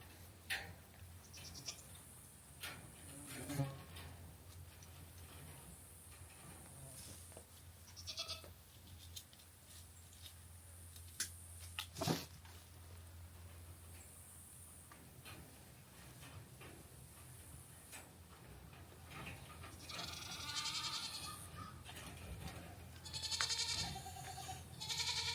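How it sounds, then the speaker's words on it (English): A goat bleats a few times in a barn pen, with faint rustling and ticking noises around it and no talk. "And of course this time it's a goat."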